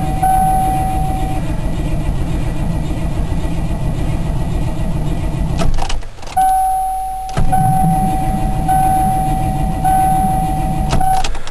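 A car engine cranks over and over without catching, a loud rhythmic churning with a steady whine, broken by one short pause before a second long bout of cranking.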